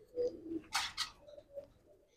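A female pigeon coos in low, soft, repeated calls, with a brief rustling flutter in the middle; the coos are close and quiet with no other sounds.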